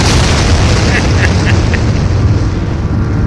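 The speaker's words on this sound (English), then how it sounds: "I can press F to just keep detonating." Video game Arachno Escape, a continuous heavy booming rumble from repeated detonations, loud and dense with faint rhythmic pops inside it.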